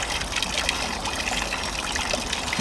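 Water trickling and splashing steadily while potato plants are watered in a garden, a continuous close, soft hiss of running water with no voices.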